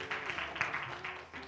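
A congregation applauds during a church worship service, producing a soft, fairly distant patter of clapping that holds steady for a moment and stays faint.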